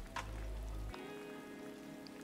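Rain falling in the video game Disney Dreamlight Valley, a soft, steady patter with no talking, following a brief low hum at the start.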